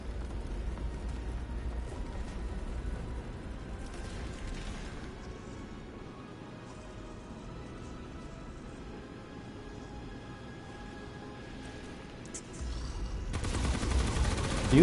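A beam rifle firing in the Remnant video game: rapid, continuous volleys of gunfire clatter at moderate level over several seconds, swelling louder near the end.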